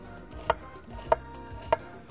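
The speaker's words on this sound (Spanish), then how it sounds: "vamos a cortar este trocito de cebolla" A knife chopping a small piece of onion on a board, three evenly spaced crisp close taps over quiet background music.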